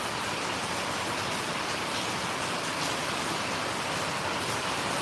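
Steady, dense rain pouring continuously, a constant hissing wash with no voices or breaks.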